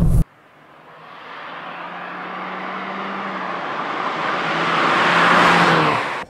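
An otherwise stock car fitted with a Fujitsubo aftermarket exhaust revs up loudly, its raspy exhaust note swelling steadily over several seconds before easing off at the end.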